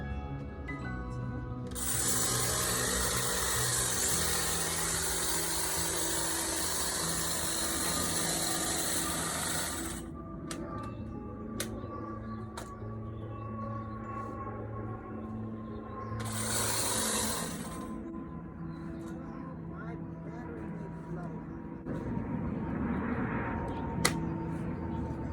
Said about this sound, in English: I'm going to use my hedge trimmer.